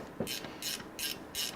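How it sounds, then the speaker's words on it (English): Ratchet wrench clicking while working on a vintage Honda motorcycle, four evenly spaced bursts of bright rapid pawl clicks, close and fairly loud with no talking. "So I finally got some of these ratchet wrenches that you guys were telling me to get"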